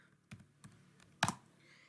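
A few separate keystrokes while HTML code is typed on a computer keyboard: two light taps, then a louder cluster of clicks, close and otherwise quiet, with no speech.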